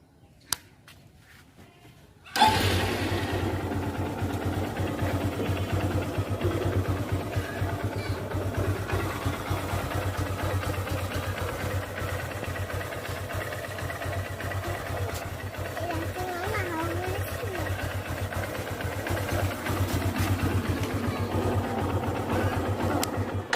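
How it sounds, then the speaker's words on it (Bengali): A new Honda CB Shine SP 125 motorcycle starts after a brief near-silence and settles into a steady, close engine idle, just after an engine oil change. "কিছুক্ষণের জন্য ইঞ্জিনটা অন করে রাখবেন।"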